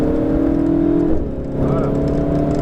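A Ferrari 488 GTB on the Fay-de-Bretagne circuit hums with a loud, steady engine drone from inside the car, its pitch dipping briefly as it shifts before rising and holding again.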